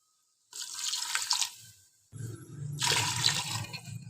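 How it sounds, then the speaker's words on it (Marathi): Water splashes and trickles into a pot holding a cup of rice, in two separate cupful pours, the second fuller and steadier, with no talking. "या वाटून आपण दोन वाट्या पाणी घालायचं आहे"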